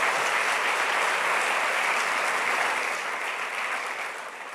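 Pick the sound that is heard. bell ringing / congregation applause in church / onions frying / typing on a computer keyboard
congregation applause in church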